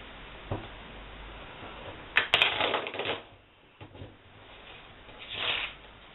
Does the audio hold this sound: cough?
no